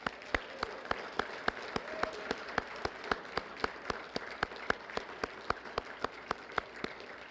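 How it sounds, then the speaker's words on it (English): A room full of people applauds steadily for Barbara McRae at a Law Enforcement Torch Run ceremony for Special Olympics New Mexico. The clapping is dense and sustained, with sharp individual claps standing out close by. "And so just a round of applause for Barbara McRae"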